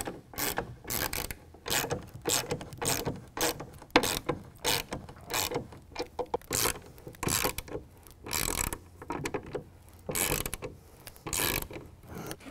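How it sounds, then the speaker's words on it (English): Half-inch ratchet clicking rapidly in short bursts while tightening a nut on a truck toolbox bracket on a Ford F-150, close and fairly quiet with brief pauses between strokes. "we're going to tighten this down with a half inch ratchet"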